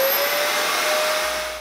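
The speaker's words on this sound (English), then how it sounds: "I can even fire up the Dyson vacuum" A Dyson vacuum cleaner running on off-grid solar power gives a loud, steady, close-up whine with a constant high tone. The motor holds its pitch and then starts to fade at the end.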